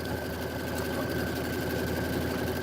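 An embroidery machine stitches a tack-down line on specialty fabric, a fast, even mechanical chatter with a steady whirring hum, moderately quiet and heard alone.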